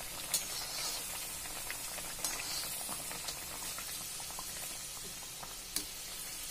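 Three sattu kachoris deep-frying in hot oil over a medium gas flame, giving a steady bubbling sizzle with scattered sharp pops and crackles that carries on unbroken throughout.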